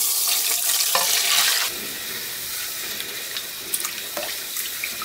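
Water runs and splashes into a basin to make salt brine for pickling napa cabbage, a steady close pouring rush that thins into softer trickling and a few drips.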